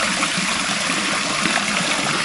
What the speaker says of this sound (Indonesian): Jadi di sini ada 7 pancuran ya